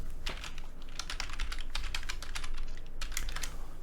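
Someone types on a computer keyboard, a fairly quiet, steady run of rapid key clicks with no talking.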